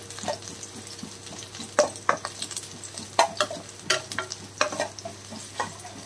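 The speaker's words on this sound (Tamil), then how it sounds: "இதை கொஞ்சம் நேரம் நம்ம வறுத்துக்குவோம்." Garlic fries in coconut oil for homemade masala puffed rice, with a soft, continuous sizzle close by. A spatula stirs and taps against the pan in irregular knocks throughout, and no one speaks.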